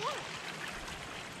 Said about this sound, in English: What's this down here? Little waterfalls?